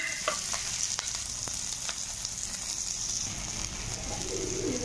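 Onions frying in a little oil in a wok give a steady, close sizzle that runs the whole time with no talk, and birds coo and chirp faintly in the background.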